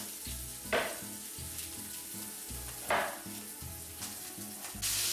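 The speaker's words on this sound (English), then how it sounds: "sausage been cooking for about 10 minutes" Sausages sizzle steadily in a pan with a soft, constant crackle and a couple of brief louder flare-ups, while quiet background music plays underneath.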